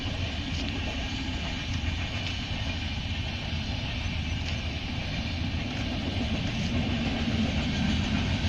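A train passes through thick fog near a railway crossing, its steady rumble and faint rail clatter continuous and moderately distant, with no talk over it.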